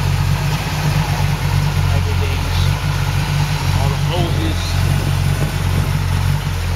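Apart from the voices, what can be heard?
1970 Pontiac Trans Am rebuilt 400 Ram Air 3 engine idling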